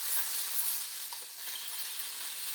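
Flour-coated chicken saltimbocca fries in a hot pan with a steady, close sizzle, while a spatula scrapes and shifts the crisping cutlets; no voices.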